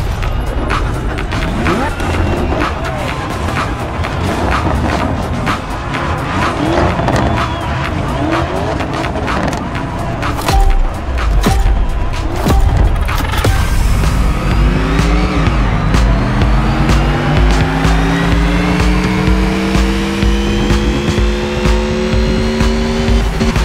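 Supercars race in the video game The Crew Motorfest during a Supercar Festival event. Loud engines roar and rev, tires squeal through skids, and a rising gear-shifting engine whine builds near the end.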